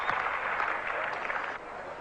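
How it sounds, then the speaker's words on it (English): Warm crowd applause at a 1978 Australia versus England test cricket match, a steady, even wash of clapping heard from a distance that keeps going throughout and eases slightly near the end. "Warm applause from the crowd."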